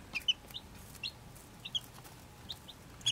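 Baby chicks, including Buff Brahma and white crested Polish, give scattered high, thin peeps, soft and intermittent against a quiet background.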